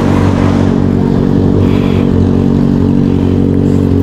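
A 2023 Honda CBR650R engine revs loudly up close, a harsh sustained roar with clattering overtones and no voices heard.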